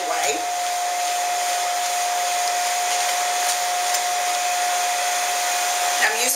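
A Lapooch Double Purple pet dryer blows out the coat of a Morkie, a Maltese-Yorkie mix, giving a loud, steady whirring roar with a high whine that runs without a break from start to finish.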